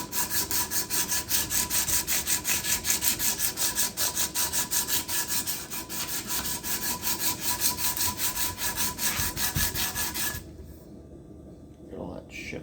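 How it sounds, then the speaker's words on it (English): Coarse 40 grit sandpaper rubs rhythmically back and forth on a wooden axe handle, loud and close in steady strokes, then stops near the end. "this is 40 grit sandpaper. So I'm just sanding it down."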